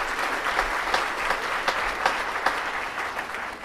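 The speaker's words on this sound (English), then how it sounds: "Big round of applause for these sponsors." Conference audience applauding the event's sponsors, a steady wash of many hands clapping at moderate volume from start to finish.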